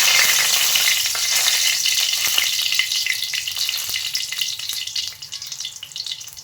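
A dried red chilli drops into a hot pan of oil, giving a loud, steady bright sizzle that fades slightly toward the end, with faint stirring clicks.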